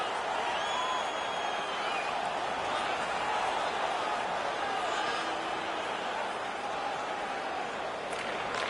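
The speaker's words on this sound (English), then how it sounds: "The home crowd is ecstatic. They're making all kinds of noise." Home crowd cheering at a hockey game, a broad, steady roar of many voices with whistles and shouts on top, filling the whole stretch at an even level.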